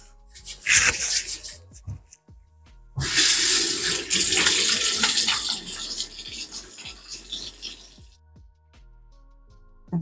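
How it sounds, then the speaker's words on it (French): Running tap water pours steadily into a sink during hand washing in a skincare routine, a short burst first and then a longer loud flow for several seconds before it stops. "D'abord, me laver les mains."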